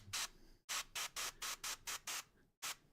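An airbrush sprays paint onto a model vehicle in short, regular hissing bursts, about eight close pulses with brief silences between, quiet and close with no talking.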